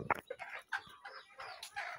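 Chickens on a poultry farm in the afternoon give a run of short, close clucks in quick irregular bursts, with no talking.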